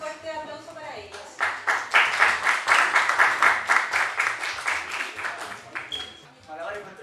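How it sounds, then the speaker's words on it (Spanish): A crowd at a folk and arts festival gives street jugglers a strong round of applause. The steady clapping swells and then tapers off, with a voice speaking over the start. "les pido un fuerte aplauso para ellos"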